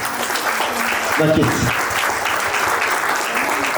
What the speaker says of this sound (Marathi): या ठिकाणी पण जरा जोरदार टाळ्या त्यांची झालेलं सगळ्यांसाठी.